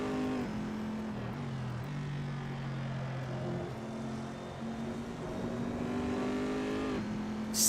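A race car engine in the Assetto Corsa racing game drones continuously up a hill, its pitch rising and dropping with each gear change and throttle shift, loud and close, with no talking.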